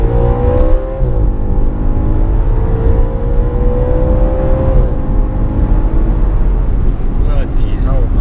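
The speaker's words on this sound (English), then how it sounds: "Just listen to the engine, forget about me" An Audi RS4 engine pulls hard on an A-road, its rising tonal whine sweeping upward through the gears, loud and steady from inside the car, with someone talking over it.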